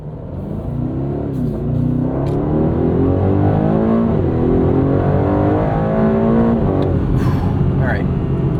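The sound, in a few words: Aston Martin DB12 twin turbo V8 launching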